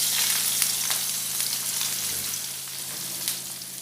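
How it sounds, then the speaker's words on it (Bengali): Chopped onion and slit green chillies sizzling in hot oil in a pan, a steady crackling hiss with scattered sharp pops, close and alone. "ওতে দিয়ে দেবো পেঁয়াজ কুচি ও চেরা কাঁচা লঙ্কা।"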